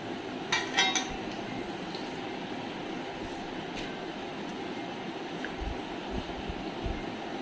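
A plate clinks and rattles in a kitchen while mutton biryani is served, with a brief cluster of sharp clatters early and then a few soft knocks over a steady low background hum.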